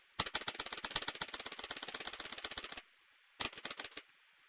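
A cat walks across a computer keyboard, setting off a rapid, dense run of clicking keypresses for about two and a half seconds, then a pause and a shorter burst; close and fairly loud, with no talking.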